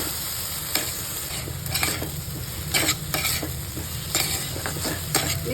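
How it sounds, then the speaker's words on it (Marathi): Chillies sauté in ghee as a spatula stirs and scrapes the pan in repeated bursts over a constant sizzle, close and fairly loud, with no talk. "असं चांगलं परतून घ्यायचं चांगलं मस्त परतून घ्यायची तुपावर बघा"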